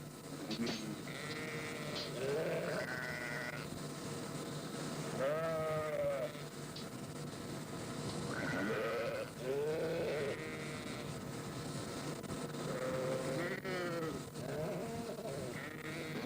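A flock of sheep bleating repeatedly at feeding time on a farm, over a constant background hum, some calls close and loud, others overlapping from the flock around them.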